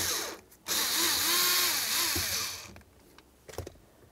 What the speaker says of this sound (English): you're going to remove the 2 screws from the latch side